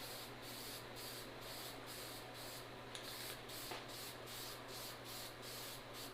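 Flat black paint sprayed as a guide coat onto a car body panel during bodywork: a steady, continuous hiss broken by short rhythmic pulses as the spray is passed back and forth, heard alone at close range.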